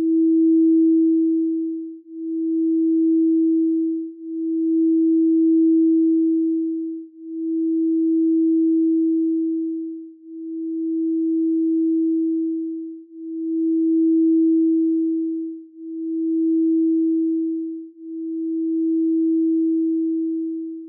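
A quartz crystal singing bowl holds a pure, steady ringing tone that swells and fades in a slow, even pulse of about eight strokes, alone with no voices.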